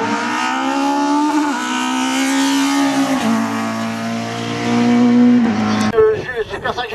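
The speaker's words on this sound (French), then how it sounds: "Boulanger avec la Clio du groupe 1 2000, c'est la ligne de départ." A Renault Clio group 1 race car revs loudly at the start line of a hill climb at Gavray, its engine note rising and falling steadily close by, with a commentator talking over it.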